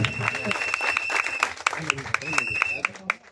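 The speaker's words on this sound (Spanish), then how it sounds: "Regalemos el aplauso más fuerte" Scattered clapping from a group at a comedian's funeral, sharp individual claps at an irregular rhythm, mixed with voices and a high steady tone.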